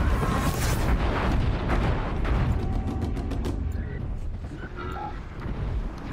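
A blast sling explodes in Horizon Zero Dawn and log piles tumble down, making a dense, loud rumbling roar that stays heavy for several seconds.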